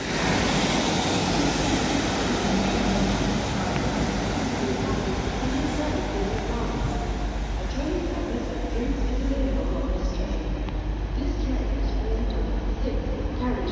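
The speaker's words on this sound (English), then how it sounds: "that Transpennine Express class 185 has just terminated in now with a service from Leeds" A TransPennine Express Class 185 diesel unit comes into Manchester Victoria at the end of a service from Leeds, giving a loud, steady rumble and hiss that lasts throughout, with someone talking nearby.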